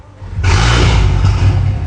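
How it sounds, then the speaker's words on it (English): A car engine fires up and settles into a loud, deep rumble through a sport exhaust with an active valve, close by, continuous and booming with no talk. "In fact, let me start the car."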